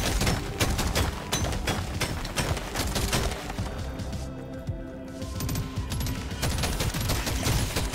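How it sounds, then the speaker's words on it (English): Automatic gunfire from the video game Deep Rock Galactic: Survivor, dense rapid-fire shots streaming almost without pause, dipping briefly in the middle before resuming at full volume. "So the gun shoots on its own."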